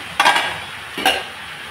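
A spoon scrapes and stirs through leafy greens cooking in a covered pot, two short bursts of stirring about a second apart, close and fairly loud with no talk.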